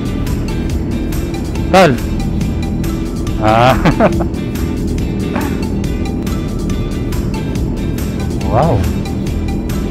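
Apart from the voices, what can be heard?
Suzuki SV 650 motorcycles riding off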